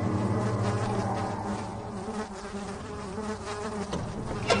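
Dense, steady insect buzzing fills a dark level of Amnesia: The Dark Descent, a continuous droning swarm at fairly loud level with no voices over it.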